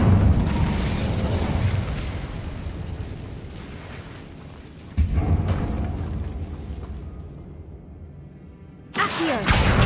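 A fire spell blasts in Hogwarts Legacy, a loud booming whoosh that rolls on for several seconds, then cuts off before a second sharp burst near the end.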